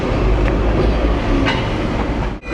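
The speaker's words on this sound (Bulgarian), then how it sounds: "Ами добре, е двуетажен трамвай." Steady rumbling rolling noise of a double-decker tram running through Hong Kong streets, loud and continuous with faint clicks of the wheels, fading at the end.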